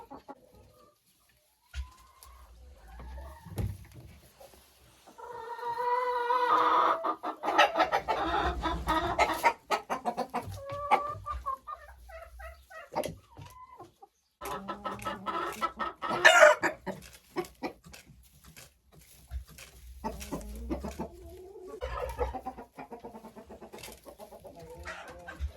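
Hens in a backyard coop cluck and murmur near the nest boxes, with repeated clucks, a few louder calls and a drawn-out crow-like cry, intermittent throughout and close by.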